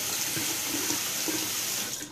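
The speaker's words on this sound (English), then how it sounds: "So I angle it down this way, let the water run down, take all my cream off." Tap water runs in a steady, close stream, rinsing shaving cream off an HTGAM Synergy straight razor held under the faucet, with no pauses for the whole stretch.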